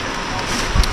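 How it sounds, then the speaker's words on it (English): Heavy rain falls steadily outdoors, a loud broadband hiss and patter filling the whole moment, with a brief low thump near the end. "The rain is too much"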